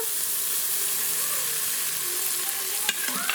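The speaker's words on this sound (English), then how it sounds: "into the oil I'm going to go in with some minced garlic and some finely grated ginger" Minced garlic and finely grated ginger sizzle in hot oil in a pot on a saute setting, a steady close hiss with faint crackle and a couple of brief utensil taps near the end, no talking.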